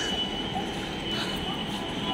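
A Hyderabad metro train pulling into the station, a steady low rumble with a faint high wheel whine, heard at moderate distance under background murmur.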